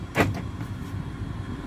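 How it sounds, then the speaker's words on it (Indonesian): Central locking on a black 2019 Daihatsu Sigra 1.0 manual, modified with an aftermarket lock and alarm, gives one quick close mechanical clunk with a short whirring actuator tail, heard alone without talk. "Kita udah buat central lock sama alarm."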